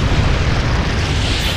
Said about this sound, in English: That's a massive explosion.